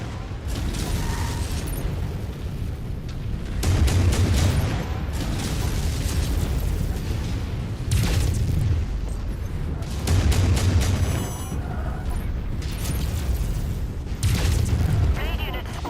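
Incoming missile impacts and explosions rumble in a MechWarrior battle, with recurring heavy booms roughly every few seconds over constant mechanical engine drone, while voices speak throughout.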